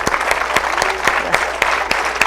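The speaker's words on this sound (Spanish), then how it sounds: "ayúdenme a darles un fuerte aplauso a quienes han sido impulsores," A conference audience breaks into loud, sustained applause, a thick crowd clapping with a few sharper claps standing out near the front and some brief vocal sounds underneath.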